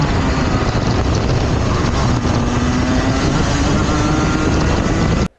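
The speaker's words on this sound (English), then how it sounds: "I also want to compare the sound of the engine coming out of these next couple low speed corners." A racing kart engine accelerates hard out of low-speed corners at a state title race, a loud continuous buzzing drone with wind rush over an onboard microphone, cutting off abruptly at the end.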